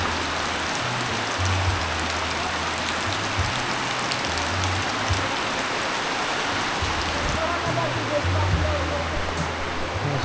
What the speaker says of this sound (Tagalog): Sobrang lakas talaga ng ulan.